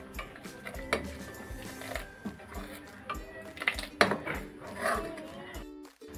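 Crushed cardamom is stirred into rabri, thickened milk, in a pot: scattered scrapes, taps and clinks of a spoon against the metal, quiet and irregular, with short pauses between strokes.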